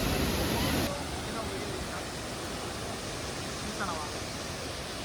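A small waterfall on a day trip from Bangalore gives a steady, even hiss of falling water at moderate level, with a brief louder burst at the start.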